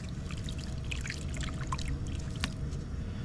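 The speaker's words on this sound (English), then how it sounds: "Like you tip the water off and nothing comes out." Water tipped out of a gold pan, a brief, quiet pour and trickle with small splashes over a low outdoor rumble, no voices heard.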